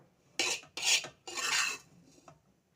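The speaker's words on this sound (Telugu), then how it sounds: "ఇప్పుడు ఈ పెరుగులో కలిపేసుకుంటున్నాను" A spoon stirs cooled tempering into yogurt in a bowl for vada gravy, making three close, scraping strokes followed by a brief faint scrape, with no talking.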